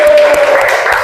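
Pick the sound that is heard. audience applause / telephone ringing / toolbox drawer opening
audience applause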